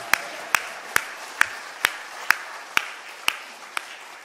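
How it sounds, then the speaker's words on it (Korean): A church congregation claps again in a steady, regular rhythm, roughly nine crisp claps spaced under half a second apart, close and distinct against a quiet hall. "한 번 더 뜨겁게 하나님 앞에 영광의 박수 올려드립니다."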